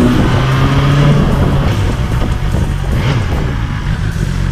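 A 2020 BMW S1000 XR motorcycle with an engine derived from the S1000RR revs loudly, its engine note rising and falling in pitch and sounding close and strong throughout without talk.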